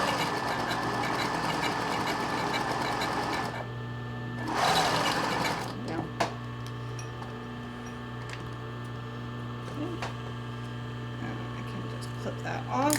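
A home sewing machine stitching a seam on boyshort underwear, a close steady mechanical whirr in a fast run that stops, a short louder burst, then scattered ticks and clicks as the machine idles, with someone talking over it.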